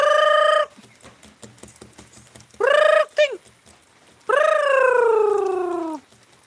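A rooster crows loud and close in a rural farmyard, three long drawn-out calls, with softer chicken clucking and scratching in the short gaps between them.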